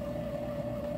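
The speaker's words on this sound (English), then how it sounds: "I got my bread machine going." A bread machine hums steadily in the background of a small house, a faint, constant motor drone with one sustained tone and no other sounds over it.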